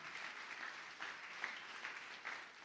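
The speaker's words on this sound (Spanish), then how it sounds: "le puede dar una fuerte de palmas al Señor" Congregation at a church service claps for the Lord, a faint, distant patter of applause with a few sharper claps standing out, steady throughout.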